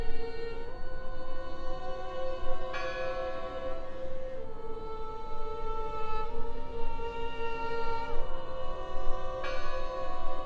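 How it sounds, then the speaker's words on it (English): Church bell tolling inside the Draugen video game, sustained ringing tones with several fresh strikes layered over a steady ambient bed, moderately loud and without speech. "Listen! The bell!"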